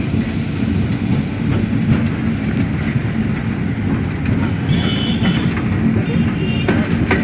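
A train rumbles steadily with a constant low roar, faint clickety-clack and occasional metallic squeals, close by at Nilphamari railway station, Bangladesh.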